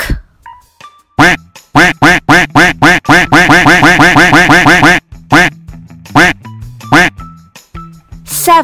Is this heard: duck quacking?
yes